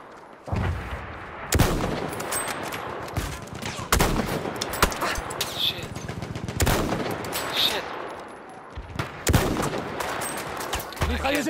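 Lebel Model 1889 rifle fired in the video game Battlefield 1, sharp loud single shots spaced a couple of seconds apart amid distant battle gunfire and explosions.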